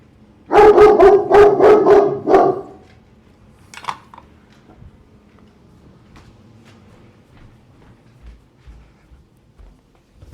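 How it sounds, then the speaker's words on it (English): Several dogs bark and howl in a loud, dense burst for about two seconds near the start, then fall away to a few faint distant yips and quiet room sounds. "Dogs were barking."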